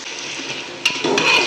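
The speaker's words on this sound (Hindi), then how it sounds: "अदरक लहसुन प्याज और चिकन को ऑयल के साथ फ्राई करते हैं।" Chicken fries in oil with onion, ginger and garlic in a pan, giving a steady close sizzle, with a sharp utensil clink and stirring scrapes partway through.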